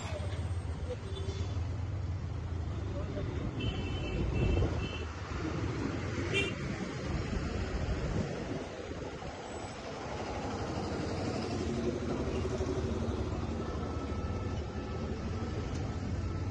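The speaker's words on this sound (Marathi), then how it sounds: "अशी ट्रॅफिक ना ह्या एरियामध्ये असतो ट्रॅफिक" Road traffic rumbles steadily near Shirdi, a low continuous drone of passing vehicles heard from inside a moving vehicle, fairly faint, with a few brief higher tones and faint voices.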